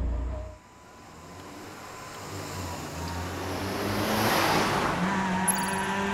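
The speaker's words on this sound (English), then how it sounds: "As we see car number 22 now closing in towards the finish line." A rally car on a changing course with water puddles drives toward the finish line, its engine note building steadily from faint to loud as it nears, with a brief high tire or brake squeal near the end.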